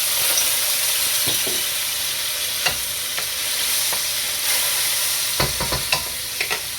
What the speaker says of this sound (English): So we're gonna drop this garlic up in here, but be careful because it might pop.